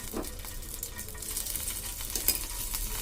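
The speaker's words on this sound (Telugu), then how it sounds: "స్టవ్ ఆన్ చేసి ప్యాన్ పెట్టిన ఆయిల్ వేసుకున్నాను అలాగే ఒక స్పూన్ నెయ్యి కూడా వేసుకున్నాను" Oil and a spoon of ghee sizzling in a pan on a stove, a continuous gentle crackle with light stirring and scraping sounds.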